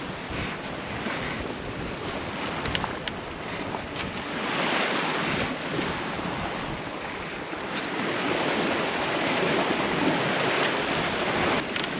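Strong fresh wind and waves around a sailing boat at sea, a continuous loud roar of wind buffeting the microphone over the wash of water, steady with slight swells in intensity.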